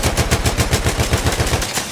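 A Perino Model 1908 light machine gun fires in Battlefield 1 as a fast, loud, evenly spaced burst of about a dozen shots, then stops abruptly near the end.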